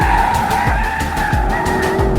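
BMW M8 Competition coupe on 275mm front and 285mm Michelin rear tires doing a burnout, steady loud tire squeal over a continuous engine roar with rhythmic low pulses, close and sustained with no talking.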